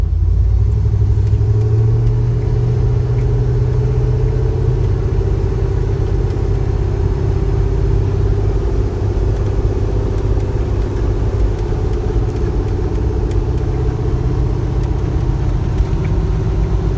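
A 1976 Jeep J10 pickup's engine rumbles steadily and loudly while driving, a low continuous drone with a slight pitch drift and no voices.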